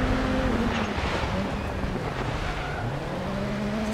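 Rallycross race car engines in the Dirt Rally game roar loudly and continuously, with revs rising and falling through shifts over a constant wash of gravel and wind-like road noise, and no voices present.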